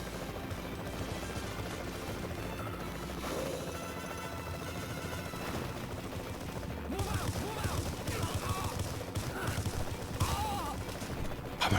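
Gunfire in the Nintendo DS game GoldenEye 007, dense bursts of shooting over a constant loud battle din that grows busier toward the end, with voices calling out faintly in the mix.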